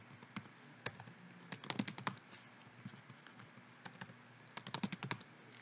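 Typing on a computer keyboard while entering product option values, with bursts of quick close key clicks separated by short pauses and a faint steady background hiss.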